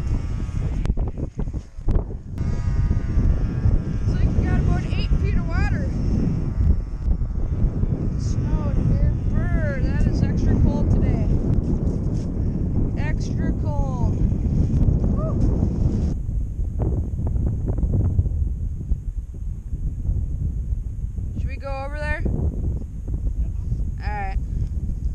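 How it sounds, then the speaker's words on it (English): Strong wind blows outdoors beside a lake, buffeting the microphone with a loud, low, rumbling roar that runs throughout, while a voice is faintly heard under it at times. "it is so windy out"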